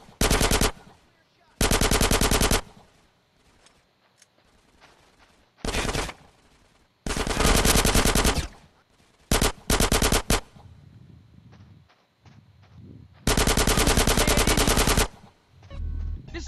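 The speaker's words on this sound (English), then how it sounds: "Get some suppressing fire in there." Machine-gun suppressing fire in GTA San Andreas Definitive Edition, loud sustained automatic bursts lasting one to two seconds each, separated by short gaps, with a few shorter rattles in between and faint background game noise.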